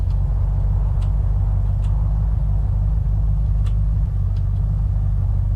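Car engine in the Unturned video game on a snowy Yukon map, a steady low idling rumble that runs continuously, with faint light ticks scattered above it and no talking.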